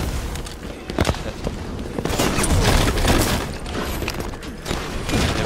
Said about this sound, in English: I can hear shooting